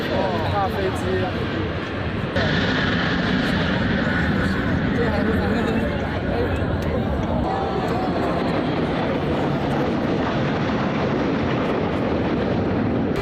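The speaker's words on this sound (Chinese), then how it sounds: "大飞机。" A large airplane flies over a military parade in China, its continuous loud engine roar filling the scene as voices talk nearby in the crowd.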